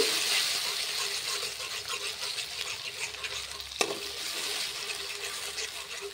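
Onion and tomato paste fries in a pan for egg curry, giving a continuous close sizzle with stirring throughout and one sharp utensil clink partway through.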